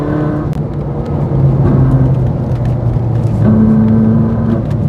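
A Ferrari 458 Italia Spider drives on twisty back roads, its engine droning loudly and rising in pitch as it accelerates between shifts, heard close from inside the open car.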